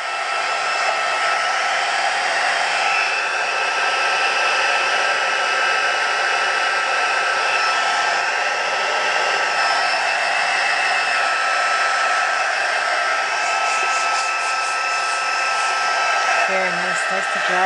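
A hair dryer blows steadily and loudly, a continuous whooshing motor hum with a brief shift in pitch near the end.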